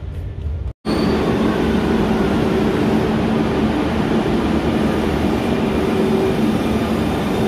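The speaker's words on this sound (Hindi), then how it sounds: "ये देखिए लापाओ ट्रेन" A Barcelona metro train at La Pau station rumbles loudly and steadily, a sustained close roar of the carriage in motion after a brief cut near the start.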